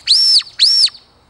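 Two sharp, high whistled squeals from a squirrel distress call whistle imitating a hurt baby squirrel, in quick succession, each rising and falling, loud and close with silence after.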